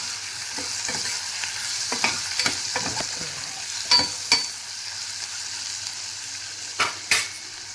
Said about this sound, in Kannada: ಈಗ ಸ್ವಲ್ಪ ಅರಿಶಿಣ ಪುಡಿ ಹಾಕ್ತಾಯಿದ್ದೀನಿ. ಹಾಕಿ ಇದನ್ನು ಚೆನ್ನಾಗಿ ಬೆನ್ಸ್ಕೊಂಡ್ಬಿಡ್ತೀನಿ.